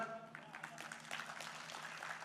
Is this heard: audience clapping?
yes